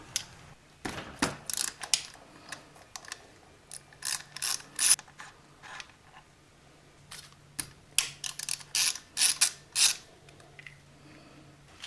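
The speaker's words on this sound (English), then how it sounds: "We're going to unbolt this, take this wire off, and then we can start taking off the head." A ratchet works loose bolts on a Honda Grom engine top end, bursts of quick clicking ratcheting strokes separated by short pauses, close and clear with no talk.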